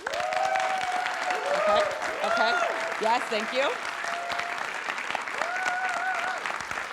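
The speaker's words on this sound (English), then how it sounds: "can I get a big round of applause?" A podcast audience's round of applause rolls steadily under a speaker's voice, loud and continuous throughout, while a person briefly talks over it.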